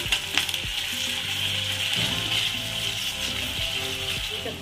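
Ginger-garlic paste, onion and curry leaves fry in a pan with a constant bright hissing sizzle, occasional stirring clatter, and tonal background music underneath.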